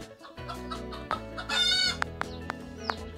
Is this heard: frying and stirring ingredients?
no